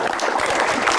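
Audience clapping during a lively holiday-season quiz show, a dense, loud burst of hands from a close group that carries on without a break for about a second.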